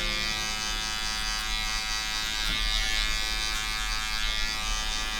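Electric hair clippers buzz steadily through a low skin fade haircut, a close, continuous motor drone with slight changes in pitch as the blade moves across the head.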